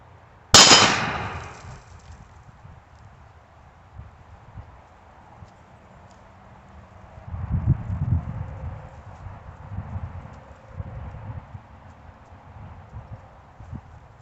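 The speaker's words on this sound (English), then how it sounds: "now we're running some Tula 130 grain FMJs out of a 2-inch barrel. This is Taurus 856" A Taurus 856 revolver with a 2-inch barrel fires a Tula 130 grain FMJ round at hot rolled steel: one sharp, loud crack with a brief metallic ring, followed by low rumbling background noise and handling sounds.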